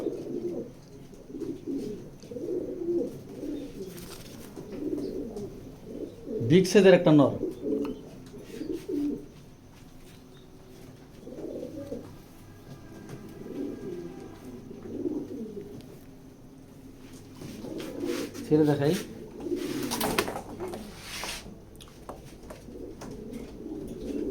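Racing pigeons coo in a loft, with repeated soft, throaty calls in a steady rhythm, some nearby and some farther off, plus occasional fluttering and light chirps.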